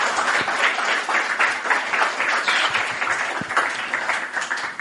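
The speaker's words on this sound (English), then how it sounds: "A round of applause." Sustained applause from a live audience at a Shocktober event in Irvington, dense close clapping filling the room evenly without pause.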